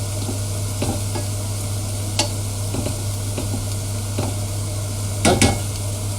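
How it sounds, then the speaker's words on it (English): Jackfruit stirred in a pan for vegan barbecue, with a steady low sizzle and scattered scraping clicks of the utensil against the pan, fairly close and with no talk. "So the more we stir it, the more that's going to help that to break up."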